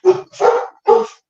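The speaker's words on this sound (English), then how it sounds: "That's my dog barking." A dog barks three times nearby, loudly and alone, in a short quick burst.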